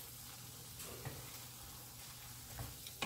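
A covered pan holds a turmeric dish cooking on low heat, giving off a faint, steady sizzle with a few soft ticks and clinks throughout.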